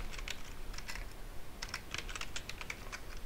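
Typing on a computer keyboard while creating a Laravel model file from the command line, with quick irregular clusters of close, crisp key clicks throughout and no talking.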